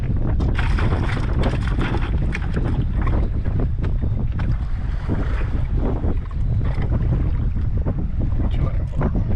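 Strong wind buffets the microphone on a fishing boat, a loud continuous roar with gusty rumble and spray-like hiss throughout.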